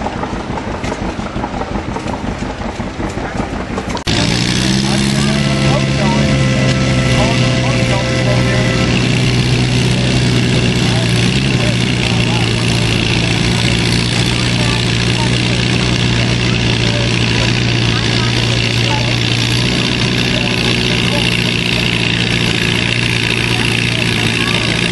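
Antique tractor engines idle and rumble at a tractor pull in Catoosa, Oklahoma, a steady loud drone with a low hum that jumps up sharply a few seconds in and holds near and constant.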